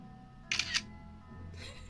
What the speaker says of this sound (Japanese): シャッター音